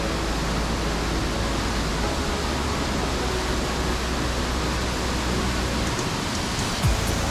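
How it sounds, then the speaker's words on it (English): A mountain creek on the Howe Sound Crest Trail rushes steadily, a dense, even wash of flowing water heard up close and alone, with no voices over it. "This is the same creek that runs along the trail through the 3 lakes"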